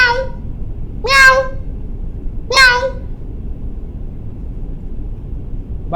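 Cat meows in a Marathi horror video game, three short rising calls spaced about a second apart over a steady low background rumble, clear and close.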